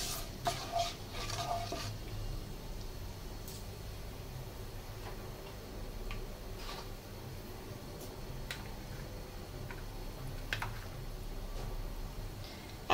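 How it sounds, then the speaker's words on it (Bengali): Green chillies fried and stirred in a pan for a Bengali pickle: quiet, steady frying hiss with occasional faint ticks and scrapes of a spoon against the pan, low in level and with no voices. "ভালো করে একটু নেড়ে চেড়ে এগুলোকে ভাজতে হবে।"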